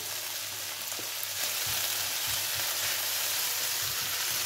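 Leek sizzles in a hot frying pan, a steady close crackle with a few soft stirring bumps and no talking.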